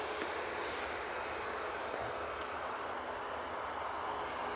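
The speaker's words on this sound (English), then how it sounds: "got this Ryanair and the Plain Jane TUI made their way over towards us" Ryanair and TUI airliners pass at Manchester Airport, their engines a steady, broad roar that holds at an even, moderate loudness throughout with no talk.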